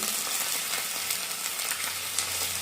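Ginger garlic paste fries with onions in hot oil, giving a steady, close sizzle with faint stirring scrapes and no voices.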